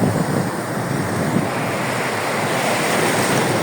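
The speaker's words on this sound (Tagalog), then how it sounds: "Sama, malaki ang alon doon, sa likod mo, malaki ang alon doon." Loud, steady surf of big ocean waves roars nearby, with waves breaking continuously and wind buffeting the microphone, and no voices.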